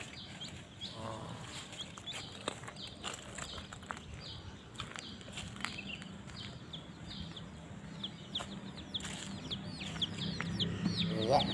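Colorful chickens cluck and chirp softly amid steady background noise, brief scattered calls running throughout and growing busier toward the end.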